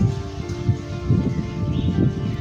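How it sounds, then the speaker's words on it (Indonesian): Strong wind blows outdoors in a steady, loud, broadband rush with gusty swells and no voices, recorded where someone waits to take an air rifle shot. "Kencang sekali anginnya soalnya"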